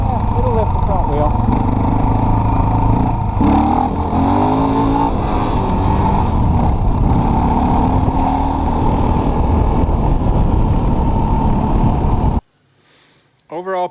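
A Suzuki DR650 motorcycle fitted with an upgraded carburetor roars steadily while being ridden, with the engine revving up and down under loud wind rush before the sound abruptly drops away near the end.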